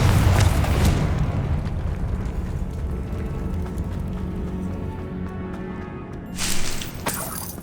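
Confringo fire spell blasts in the Hogwarts Legacy video game: a heavy booming burst at the start that rumbles and fades, followed by a second sharper blast near the end, with no talking.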